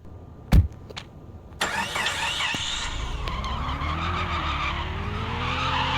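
Car engine in a driving video game revs up after a few sharp knocks, then roars steadily with tyres skidding and screeching, loud and close, with no talk.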